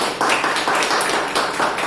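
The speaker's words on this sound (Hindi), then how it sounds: "नमिता के लिए बहुत जोरदार तालियां बजाएंगे" An audience at a meditation session applauds a woman named Namita after her devotional song. Many hands clap at once in a loud, dense wash close by, with a faint pulsing swell and no talking.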